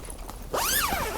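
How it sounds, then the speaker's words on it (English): A zip runs along a Vango Anantara III 650xl TC tent window panel as it opens, one close, rising-and-falling rasp lasting about half a second after a short quiet moment. "So the window simply zips away"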